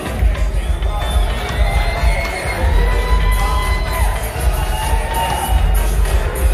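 Guests cheer, whoop and clap at a wedding reception, a lively crowd din with shouts over a steady low rumble of the room.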